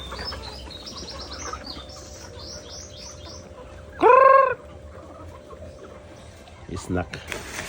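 Chickens cluck and squawk nearby while being fed cracked corn, with one loud burst of clucking standing out midway over a steady background hum and scattered chirps.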